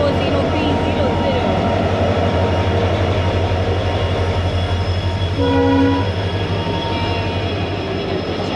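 WDB4D diesel locomotive number 40300 on an Indian passenger train in Rajasthan, with a steady loud rumble of running wheels and engine and a brief horn tone near the end, heard from aboard the train with a voice talking.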